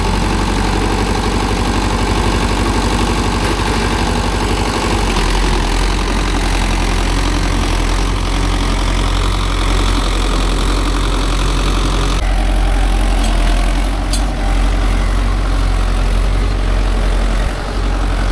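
A Mahindra Yuvo Tech Plus 585 4WD tractor engine runs steadily at a loud, close idle-like rumble, a constant low throb that holds for the whole stretch with no voices.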